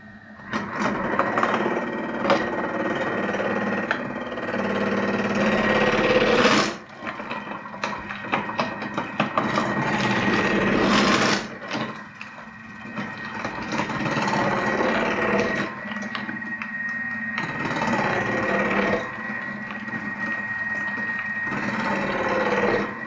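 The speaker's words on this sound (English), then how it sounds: "So we're going to grate the carrots on thick mode" A Thermomix fitted with a cutter attachment grates carrots on its thick setting, a steady loud whirring drone that drops out briefly twice before resuming.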